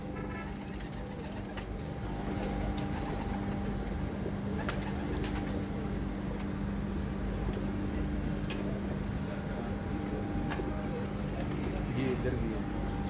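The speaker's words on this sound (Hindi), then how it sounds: "ये खान साहब की तैयार कबूतर है माशाल्लाह" Pigeons coo steadily on a rooftop loft, low soft calls running throughout over a constant background hum, with people talking nearby.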